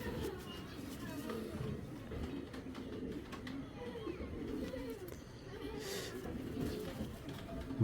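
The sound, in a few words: Gola breed pigeons cooing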